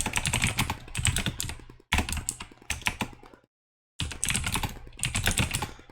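Rapid keystrokes on a computer keyboard while terminal commands are entered in Kali Linux, coming in dense bursts with a short silent pause midway, close and fairly loud with no talking.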